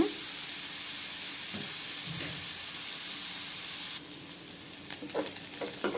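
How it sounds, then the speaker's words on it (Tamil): Carrot pieces fry in oil over a low flame for carrot rice, giving a steady close sizzle that drops noticeably quieter partway through, with a few light stirring clicks near the end. "இந்த கேரட் நல்லா ஆயிலே நல்லா வேகட்டுங்க. அடுப்பு கொஞ்சம் சிம்மில் வச்சு வேக விடுங்க."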